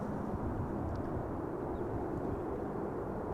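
An Aeromexico Boeing 787 Dreamliner arrives at Amsterdam Schiphol, a steady broadband jet roar from a distance that stays even throughout, with no talk.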